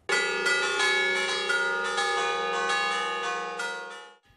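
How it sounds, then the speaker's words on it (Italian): Church bells ring out together in a festive, full, overlapping peal in the village of Celesia, loud and sustained, fading away at the end. "Le campane che suonano a festa nel paese di Celesia"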